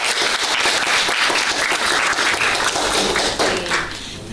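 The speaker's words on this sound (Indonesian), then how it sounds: "Mari kita tepuk tangan untuk diri kita sendiri." A classroom of students claps for themselves in loud, sustained applause, dense and even throughout and tapering slightly at the very end.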